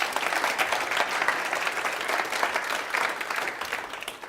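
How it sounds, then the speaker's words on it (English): Audience applause fills the room, a steady dense patter of many hands clapping at close range, fairly loud and even throughout with no talk over it. "Give him a nice round of applause."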